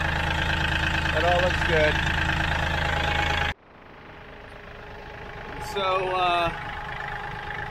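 A Kioti CK3510 tractor engine idles with a steady, close drone that drops lower and quieter partway through, while someone talks over it.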